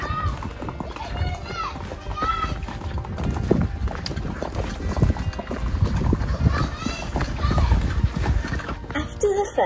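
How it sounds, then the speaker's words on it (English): Horses' hooves cantering at pony camp, a rolling rhythmic clip-clop of several animals moving together, fairly close and loud, with people talking over it. "the horses trotted ahead to the next stopping point"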